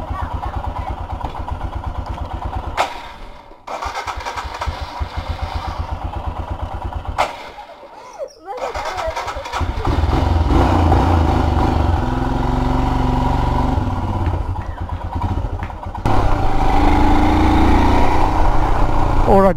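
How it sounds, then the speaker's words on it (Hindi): A Royal Enfield Himalayan motorcycle, left unstarted for a month and a half, cranks with several halting attempts and short gaps before catching and settling into a loud, steady engine run, close by, with someone talking over it. "तो डेढ़ महीने के बाद हिमालयन को स्टार्ट किया और लकली स्टार्ट होगी गाइस।"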